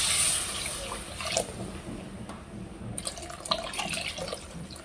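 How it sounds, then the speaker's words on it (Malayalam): Tamarind water pours into a cooking pot of hot masala, a splashing gush at first that settles into trickles and small splashes, close and unaccompanied. "അപ്പോൾ നമുക്ക് പുളിവെള്ളം ഒഴിച്ചു കൊടുക്കാം."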